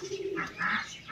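A pigeon gives a soft, brief coo, near and alone, outdoors after rain.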